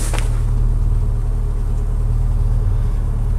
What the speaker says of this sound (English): This is what it sounds like in the rear while the engine's running.